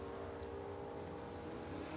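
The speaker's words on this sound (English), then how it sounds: "I love the sound of those modified cars." Modified drag racing cars at an NHRA event, engines droning steadily with a continuous mechanical roar throughout, somewhat distant and without talk.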